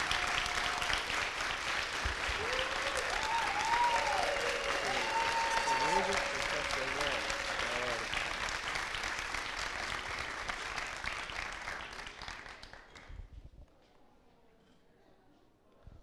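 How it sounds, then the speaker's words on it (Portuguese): A studio audience gives a guest a long, full round of applause that holds strong, then thins out and fades near the end, with a few whoops mixed in. "queria pedir uma salva de palmas para o Chavoso"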